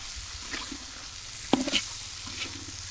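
Tomatoes and chopped onion sizzle steadily in a pan with fried potatoes, with a soft constant hiss and a sharp clatter of stirring midway, close by and without talk.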